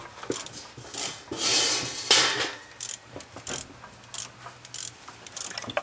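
A ratchet works loose the four corner bolts on an old Ford truck, its clicking ticks coming in short close bursts with pauses between strokes and a faint hum underneath.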